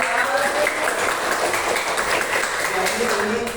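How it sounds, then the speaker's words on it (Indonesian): A primary-school class at SD Negeri 205 Palembang claps together in the classroom, a busy burst of applause that runs the whole time with children's voices mixed in. "Tepuk tangan dulu di sini."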